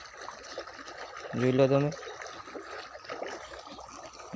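Irrigation water flows along a farm channel with a soft continuous trickling rush, quiet in the background while someone speaks briefly over it.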